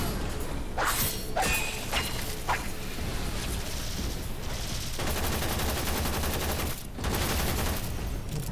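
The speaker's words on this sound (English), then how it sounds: "They're shooting you from everywhere." Enemy gunfire rattles through a sci-fi shooter game, Warframe, with dense overlapping bursts and impacts, loud and continuous, punctuated by a few sharp cracks early on and a brief dip near the end.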